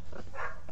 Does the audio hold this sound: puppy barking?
yes